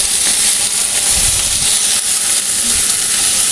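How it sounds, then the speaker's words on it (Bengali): Chicken pieces fry in a hot pan with freshly added red and green capsicum, giving a loud, close, continuous sizzle and hiss with occasional soft stirring thumps and no voices. "মুরগির মাংসটা যখন এরকম ভাজা ভাজা হয়ে যাবে, তখন আমি এতে অ্যাড করলাম লাল এবং সবুজ ক্যাপসিকাম।"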